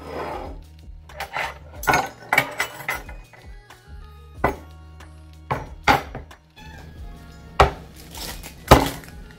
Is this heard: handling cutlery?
yes